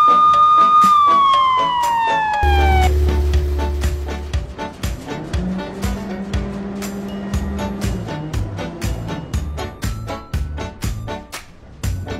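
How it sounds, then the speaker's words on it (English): A police car siren wails amid toy-like synthesized sounds, with a descending tone sweep at the start, then sustained tones and a string of sharp percussive clicks and pops running through to the end. "Black color police car."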